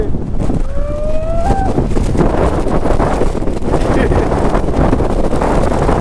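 Strong wind buffets the microphone during a rainy monsoon outing in Chikmagalur, a loud, steady roaring rush that fills the whole stretch, with a brief thin whistling tone near the start.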